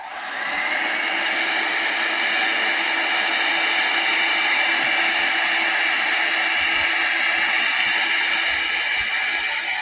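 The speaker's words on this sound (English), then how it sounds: "I'm going to turn the heat gun on this real quick." A heat gun blows on a paper craft journal project in a steady, loud, close whoosh. It starts abruptly and holds unchanged for about ten seconds with no speech.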